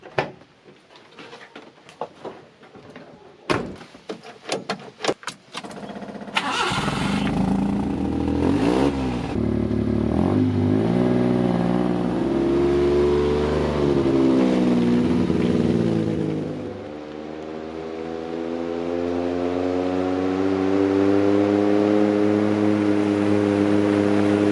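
A Japanese kei truck clatters and starts up, then its small engine drones and revs steadily while driving on a roughly 12-mile trip into town, pitch rising and falling with acceleration before easing and picking up again.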